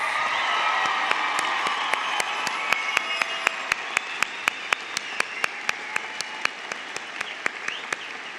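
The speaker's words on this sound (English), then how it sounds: "Please give our future servicemen and women a round of applause." A crowd at a 2017 high school graduation ceremony applauds steadily, and a regular series of sharp, bright claps or taps cuts through the applause at an even beat.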